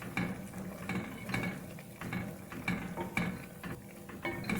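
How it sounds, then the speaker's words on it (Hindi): A spoon stirring pulao rice in a cooking pot after the yogurt step, giving repeated scraping and clinking strokes in a steady rhythm, close and moderately loud with no talking. "थोड़ा सा चमचा चला लेंगे इसमें।"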